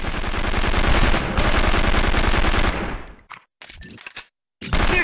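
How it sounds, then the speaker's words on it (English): Rapid machine-gun fire in the video game The 24 Game, a loud continuous burst for about three seconds that cuts off, followed by a few scattered shots and gaps of silence before the firing resumes. "They're shooting at me."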